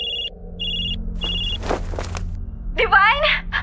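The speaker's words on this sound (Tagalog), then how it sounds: "Biglang nag-ring ang cellphone ko." A mobile phone rings with three short, regular electronic beeping tones, followed by rustling and a person starting to speak loudly near the end.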